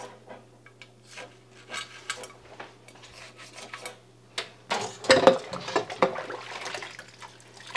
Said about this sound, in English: I use just a little, you know, pipe cleaner thing on a wire to get through any of these areas that could have milk stuck in them